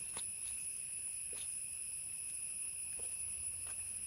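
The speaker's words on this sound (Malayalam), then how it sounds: "ചീവീടിൻ്റെ ഒക്കെ ഭയങ്കര സൗണ്ടാണ്." Crickets shrill in a calm, quiet hill forest at Mamalakandam on a rainy, misty day, a steady, high, layered drone that runs unbroken from start to finish with no voices.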